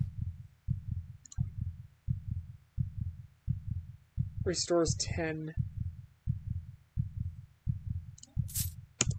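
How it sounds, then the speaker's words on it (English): Heartbeat effect from the horror game Nightmare Simulator 2: steady, evenly spaced low double thumps repeating throughout, with a brief burst of game voice or chime sounds in the middle and near the end. "I just don't want to hear the heartbeat constantly"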